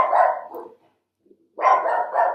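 A female dog barks nearby in two loud, rough bursts of rapid barks separated by a brief silence.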